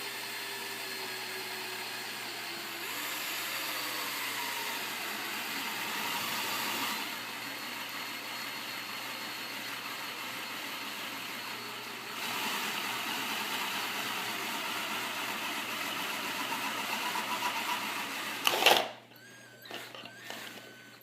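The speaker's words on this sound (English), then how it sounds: "we got the hole drilled" Power drill boring a hole through a metal tomato paste can, a steady continuous whir running for most of the clip and then stopping with a few clatters and bumps at the end.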